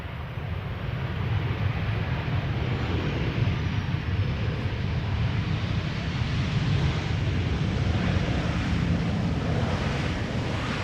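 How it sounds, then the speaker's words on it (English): A Transavia Boeing 737-800 arriving at Amsterdam Schiphol gives a loud, steady jet roar with a broad, unbroken rumble that holds throughout, mixed with wind buffeting the microphone. "Transavia arriving from Olbia, next 737-800"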